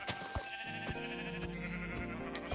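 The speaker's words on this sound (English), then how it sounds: "So here's some sheep." Sheep bleating in the Minecraft modpack GregTech: New Horizons, with several short, fairly loud bleats repeating over a steady game background, and no talking.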